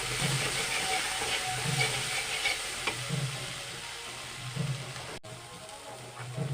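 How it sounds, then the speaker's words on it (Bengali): Kashmiri chili powder and spices sautéing in a pan for a Bengali fish-head curry with green banana and potato, a steady low sizzle with periodic stirring scrapes, moderately close, no talk. "আবার একটু অল্প কাশ্মীরি লঙ্কা দিলাম ভালোভাবে কষে নেব"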